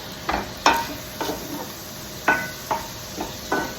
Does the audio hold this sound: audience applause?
no